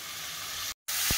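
Mushrooms dropped onto oily cooked spice paste in a pan, a bright hissing sizzle that cuts out abruptly and returns with a soft low thump near the end.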